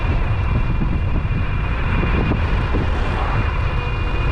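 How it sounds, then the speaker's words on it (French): Gusting wind buffets the microphone while riding a Rovoron R7 Pro electric scooter, a loud, constant low roar with no speech. "maintenant le vent même, et un petit vent il souffle"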